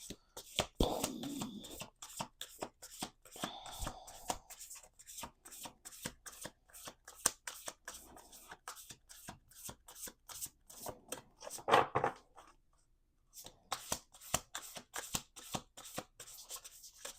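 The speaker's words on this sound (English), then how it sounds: "Let's do two more shuffles." Playing cards shuffled repeatedly in quick riffles, a dense run of crisp flutters and taps up close, with a brief pause near the end before more shuffling.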